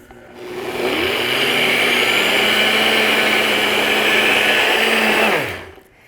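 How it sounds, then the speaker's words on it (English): A blender grinds about two and a quarter cups of oats into flour, its motor spinning up to a loud, steady whirring roar for several seconds before winding down. "screw on the lid that has the blade. Just put it right in the motor, give it a quick turn."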